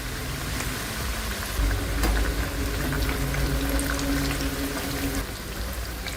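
Mathari pastries fry slowly in hot oil over a low gas flame, giving a continuous soft sizzle and bubbling hiss that stays even and moderately quiet throughout.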